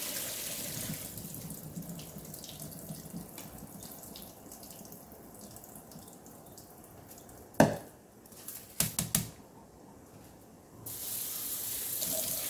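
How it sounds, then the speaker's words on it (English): Tap water runs steadily into a bowl of rice being rinsed for vegan spam musubi, a soft continuous hiss broken by a few sharp clatters of bowl and grains, with no voices. "So this will be my 3rd time adding the water."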